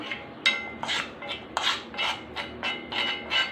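A herbal hair paste made from leaves is stirred and mixed in a bowl, about nine rhythmic scraping strokes at close range with no talking.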